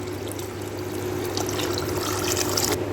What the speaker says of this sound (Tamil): சாப்பாடு தேவையான தண்ணி ஊற்றி போடலாமுங்க.